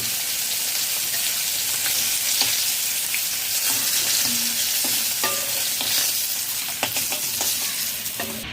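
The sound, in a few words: fish frying in oil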